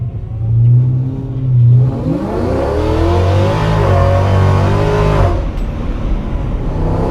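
Supercharged car with a redone exhaust and added drone pipes revving hard: a loud, close engine climbs in pitch through several rising pulls, holds a throaty roar, then cuts off abruptly near the end.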